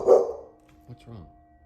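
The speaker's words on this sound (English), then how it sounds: "the barking doesn't stop" A dog, Jackson, lets out one sharp, fairly close bark, followed by a couple of quieter, lower huffs or muffled barks in an indoor hallway.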